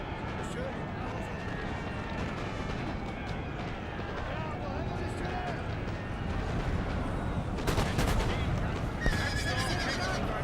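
Cavalry horses charge in Napoleon Total War, a dense, continuous rumble of hooves with scattered gunshot cracks growing louder toward the end, while a voice talks over the battle.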